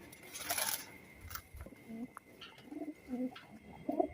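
Budapest racing pigeons coo in a few soft, low bursts at close range, with brief rustling and a short hissy burst early on and no talk over them.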